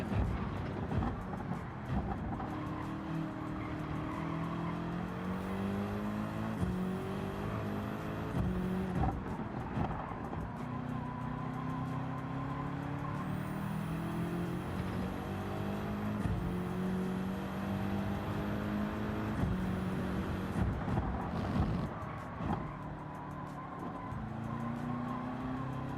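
Race cars in the game Gran Turismo 7 roar continuously, engines climbing through gears with repeated upshifts and brief tire squeals, the mix steady and fairly loud with no voices.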